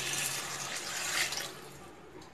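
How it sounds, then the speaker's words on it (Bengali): Water poured into an egg and cauliflower curry simmering in a pan, a steady broadband splashing pour that swells briefly and then tapers off near the end, with no talk. "জল দিয়ে দেবো।"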